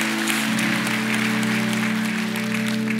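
An audience applauds at a church baptism service, a continuous crowd clapping over steady sustained tones, probably organ or keyboard music, with the applause even and moderately loud the whole time.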